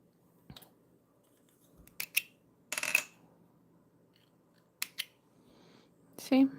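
Scissors snip beading thread on a peyote bracelet, giving a few sharp, close clicks spaced apart amid quiet moments, with a voice speaking.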